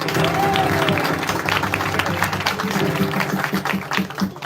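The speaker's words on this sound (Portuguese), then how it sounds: "Dá uma salva de palmas ao Senhor." A congregation claps at a church service inside a tent, a loud burst of dense applause that gradually thins, with voices and a few shouts mixed in.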